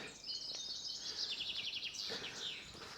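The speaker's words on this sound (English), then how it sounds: "Listen to some bird song as we're walking." Birds sing along Undercliff Drive on a walk, with bright twittering phrases that continue throughout, fairly faint against quiet outdoor air.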